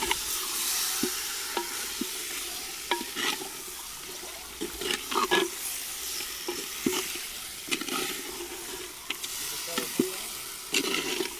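Marinated mutton and onions frying in a clay pot give a soft, steady sizzle. Irregular scraping and clattering stirring strokes rise above it, close by, with no talk.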